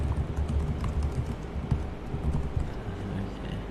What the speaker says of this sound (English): Let me finish typing the question.